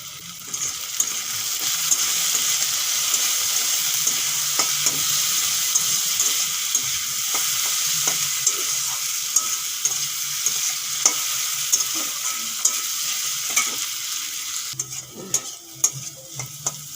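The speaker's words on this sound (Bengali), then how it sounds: "আলু ভাজা হয়ে গেছে" Potatoes fry in a pan with salt and a little turmeric, a loud continuous sizzle broken by repeated scraping strokes of a spatula as they are stirred, with no talking.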